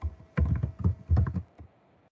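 Code typed on a computer keyboard, a short close burst of several quick key clicks in uneven groups, then a pause before a final tap, with no talk.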